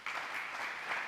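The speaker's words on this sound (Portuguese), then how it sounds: "Você podia dar um aplauso a Jesus por isso" A church congregation applauding Jesus, a brief burst of steady clapping from many hands.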